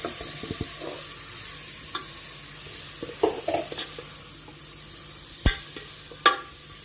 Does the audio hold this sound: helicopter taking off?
no